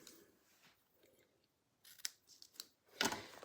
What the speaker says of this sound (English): Okay, my ribbon scissors.